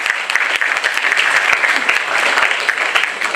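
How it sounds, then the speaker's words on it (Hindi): A podcast audience breaks into brisk, steady applause to welcome a guest, dense clapping heard near and loud throughout, without any speaking over it. "आइए तालियों के साथ, गड़गड़ाहट के साथ हम स्वागत करते हैं"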